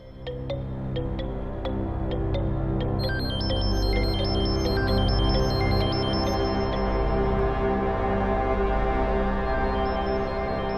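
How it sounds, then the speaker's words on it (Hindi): A phone rings continuously inside a house, its repeating electronic tone sitting over a dense, steady music score at fairly constant loudness. "फोन की आवाज आ रही है"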